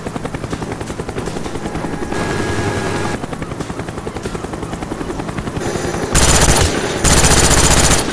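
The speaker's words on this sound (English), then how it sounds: "It's a helicopter." Helicopter rotor thumping steadily throughout a Call of Duty Black Ops multiplayer match, with bursts of machine-gun fire and explosions layered over it, growing louder and harsher in the final seconds.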